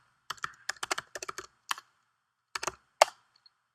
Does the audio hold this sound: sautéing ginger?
no